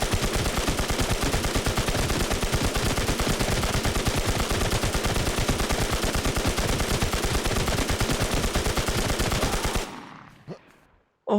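Rapid sustained automatic fire from a SIG SAUER 556 rifle in the survival shooter Infestation, a dense continuous burst of close, loud shots lasting about ten seconds before cutting off abruptly into near silence.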